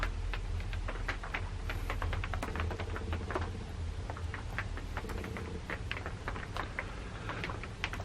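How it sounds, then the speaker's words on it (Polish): Light rain drizzling outdoors, a steady soft patter of many scattered small drops and ticks continuing evenly for the whole stretch at moderate level, with no voices. "A deszcz siąpi."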